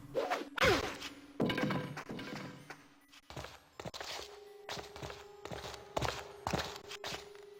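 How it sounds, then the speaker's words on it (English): Melee strikes against an ice sharga in the Stonekeep video game, a string of thuds and whacks spread across the clip, some sharp and loud, others softer, over a low steady game tone. "let's make the understandable mistake of accidentally attacking the first ice sharga we come across"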